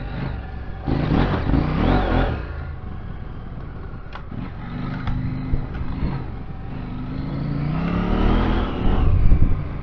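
A KTM 790 motorcycle rides a dry, slippery dirt track, its engine rising and falling in close revving surges over rumbling road and wind noise. No one speaks.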